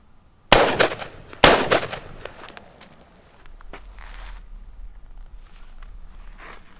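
Two sharp, loud gunshots about a second apart during a shooting drill at playing-card targets, followed by quieter rustling and low background noise.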